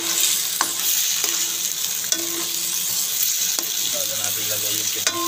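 Pork sizzling and frying in a hot pan, a continuous hiss with occasional scrapes of stirring, close by and without speech.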